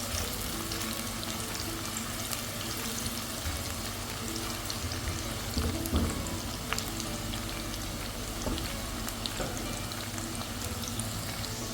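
Onions deep frying in hot oil for chicken biryani give a dense, steady sizzle and crackle, close and continuous throughout with no talking.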